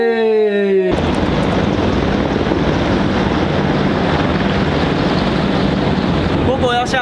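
A helicopter passes over a hotel swimming pool with a loud, steady roar of rotor and wind that swamps everything for most of the clip; voices are heard briefly at the very start and end.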